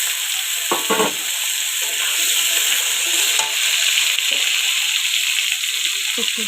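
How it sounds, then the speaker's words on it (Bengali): Potatoes fry lightly in oil left over from frying paneer, a steady bright sizzle running throughout with a few brief clinks and stirs of a utensil in the pan. "এই তেলেই এখন আলুগুলো ভেজে নেব হালকা করে"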